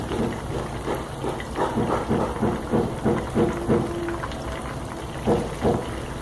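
Breaded chicken pops fry in a pan over medium flame, throwing off rhythmic bursts of bubbling, crackling oil that swell and fade in close, loud pulses, with no talking.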